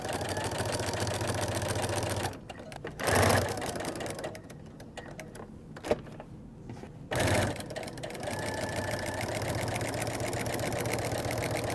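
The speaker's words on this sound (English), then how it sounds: "right now we need to do a basting seam, and that is going to be about 1/4 inch or less" A sewing machine runs a quarter-inch basting seam along a quilted tote, its steady motor whir broken by two brief pauses before it resumes stitching, close and fairly loud.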